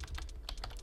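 A short command typed into AutoCAD on a computer keyboard, a handful of quick, soft key taps in close succession, quiet and close with no talk.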